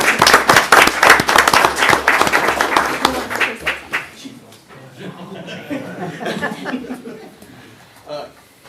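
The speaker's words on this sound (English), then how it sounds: "You can applaud." Audience applause at a city council meeting in Hutchinson, Kansas, following a First Responders Day proclamation: dense clapping with some laughter for about four seconds, then fading into murmuring and quieter room noise.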